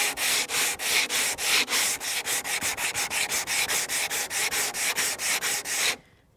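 Rough-grit sandpaper rubs back and forth over painted wood, stripping old paint and glue in fast, regular strokes, loud and close, stopping abruptly near the end.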